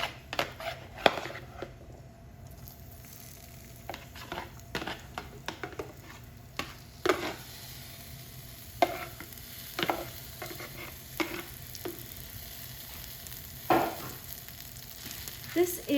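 Steamed beets sizzling in melted butter over medium heat, a soft steady fry punctuated by repeated scrapes and knocks of a spoon stirring the pan, close and moderately loud, no talking.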